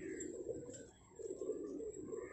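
A Gola fighter pigeon coos softly nearby in two or three low, throaty phrases, faint and alone.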